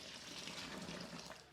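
Hot water poured steadily from a kettle into a brewing vessel while making a Tom Caxton real ale kit with extra hops, a continuous splashing flow heard up close and alone.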